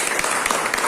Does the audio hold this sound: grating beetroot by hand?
no